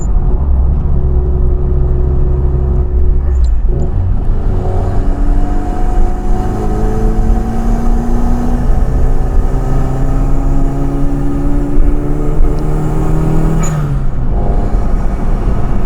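Turbocharged, fuel-injected classic Mini Cooper engine pulling uphill from low revs in fourth gear, a loud steady drone with rising harmonic sweeps as the turbo spools and speed builds, dipping briefly near the end, heard alone without talk.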